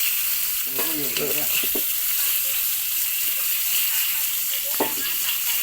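Continuous sizzling of moringa leaves frying in hot oil, close up, with a few brief voices and stirring sounds over it.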